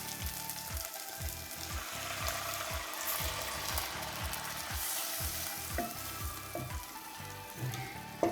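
Tomatoes frying in a pan for devilled beef as homemade stock is poured in, giving a steady close sizzle with repeated stirring scrapes and clatter throughout, no talking.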